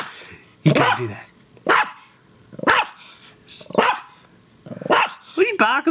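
A pet dog barks in short, loud single yaps spaced about a second apart, six or so in all, close to the microphone with a quiet room between them.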